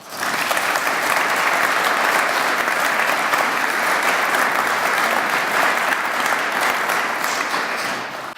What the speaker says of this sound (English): I think we need to just give all of you a big round of applause for the work that you do every single day.